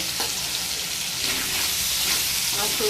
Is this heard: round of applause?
no